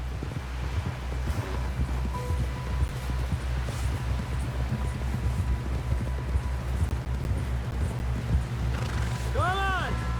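Rapid, steady hoofbeats of a galloping horse in Red Dead Redemption 2, continuous and fairly loud, with wind rushing underneath and a brief warbling tone near the end.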